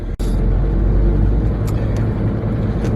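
A car towing a trailer drives through a field on a cold, windy, rainy day, giving a steady low engine and road rumble with faint bumps and rattles.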